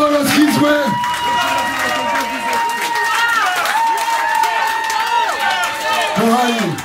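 Concert audience at a punk show in Sopot, 2019, applauding and cheering throughout, a dense steady wash of clapping and crowd voices, with someone talking over the noise.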